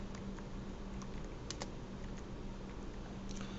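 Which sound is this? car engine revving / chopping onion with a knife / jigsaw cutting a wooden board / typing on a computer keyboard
typing on a computer keyboard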